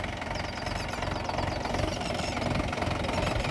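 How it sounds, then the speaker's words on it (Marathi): A tractor engine idling in a sunny field after ploughing, a close, steady low knocking chug that runs throughout with no talk. "आता हे इथूनच ट्रॅक्टर मागं घेऊन घरी जाणार आहोत."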